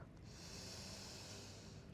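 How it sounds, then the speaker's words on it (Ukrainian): During a yoga practice, one long, deep inhale through the nose makes a close, steady airy hiss that lasts nearly two seconds. "Носиком вдох."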